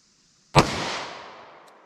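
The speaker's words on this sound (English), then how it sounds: "Let's see how our 38 special does." .38 Special revolver with a 2-inch barrel fired once, a single sharp loud crack with a short decaying tail, heard alone.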